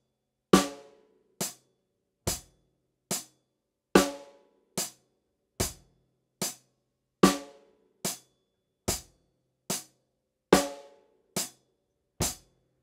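A slow, steady rock drum beat on a kit, kick, snare and hi-hat alternating in an even, looping pattern, with each hit ringing briefly and no talking.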